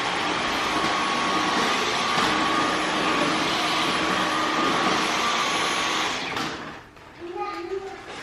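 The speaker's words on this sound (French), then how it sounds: "Vous connaissez ce petit coup d'aspirateur de fin de nettoyage tellement satisfaisant." A household vacuum cleaner runs loud and steady at the end of a cleaning session, its broad whine holding for about six seconds before cutting off, leaving faint room sounds and a brief bit of background talk.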